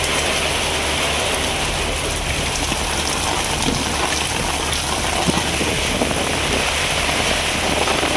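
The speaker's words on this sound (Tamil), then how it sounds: "இடி மின்னலுடன் கூடிய பலத்த மழை பெய்தது" Heavy rain pours steadily in a Tamil Nadu town during a thunderstorm, a dense, even hiss of drops beating on surfaces throughout with no voices; thunder is not distinctly audible.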